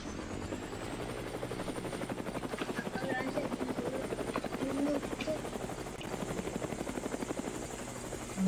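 Helicopter in Roblox Mad City flying with a steady, rapid rotor chop and engine drone throughout, with faint game sounds mixed in.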